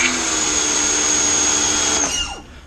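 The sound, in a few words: Sun Joe pressure washer starting up and spraying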